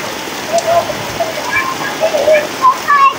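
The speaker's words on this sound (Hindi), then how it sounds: "बहुत ज़्यादा तेज़ बारिश हो रही है" Heavy, torrential rain pours down outdoors in a steady dense hiss, with scattered patters and drips standing out near at hand and a voice speaking faintly beneath it.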